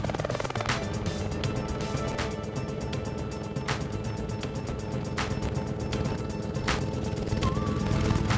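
A 1992 Rotorway Exec 90 helicopter runs with a loud, continuous engine drone and a rapid rotor chop that ticks steadily throughout.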